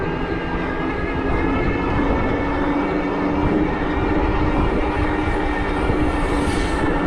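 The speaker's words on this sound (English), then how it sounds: "Let you listen to the motor here." The mid-drive motor of a CYKE Falcon X e-bike drones loudly and steadily during a climb, a continuous rumbling whir with a faint whine on top, up close and without talk.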